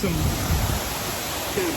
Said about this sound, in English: got a waterfall up here